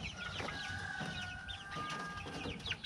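Chickens cluck busily nearby in a short burst of overlapping clucks and squawks, loud and close, while one bird is being chased.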